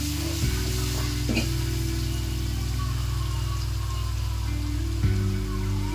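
Garlic fries in hot oil while chicken haleem is prepared, giving a steady, close, rain-like sizzle under a low background hum.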